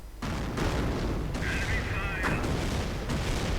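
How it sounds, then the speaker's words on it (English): A registered artillery barrage in a 1v1 strategy video game match: repeated dull booms and blasts rumble through the clip, mid-distance and steady, under a commentator's voice. "And another registered artillery barrage."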